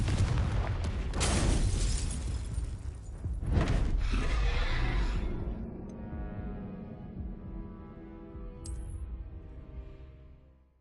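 Confringo blasting curse from Harry Potter: two heavy booming explosions with crackling debris, loud and close, followed by a long decaying rumble and a faint late sparkle.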